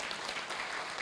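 Congregation at a church service breaking into a burst of applause, dense steady clapping filling the room for about a second with no voices over it.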